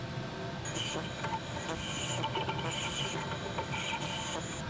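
A 3/8-inch carbide ball end mill cutting dry into steel to add clearance on the tips of a tool's flutes, a steady machine whine with rhythmic scraping, rasping passes at close range.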